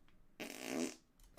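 A single brief fart, a spluttering puff about half a second long, fairly close and alone.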